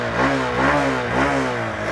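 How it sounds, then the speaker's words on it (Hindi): A Honda SP 125 motorcycle engine idling and gently revving, giving a steady low exhaust thrum with slight rises in pitch, heard close up with road and background noise and no talking. "आप इस बाइक का इंजन साउंड सुनो, एग्जॉस्ट नोट सुनो"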